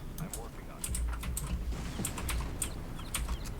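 Rapid mouse clicking while hacking a door in the video game Far Cry, a dense run of quick light clicks throughout, with a voice talking underneath.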